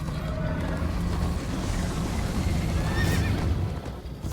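A horse in Minecraft: Story Mode whinnies over rapid, rhythmic hoofbeats of galloping, dense and close, with a busy outdoor game background throughout.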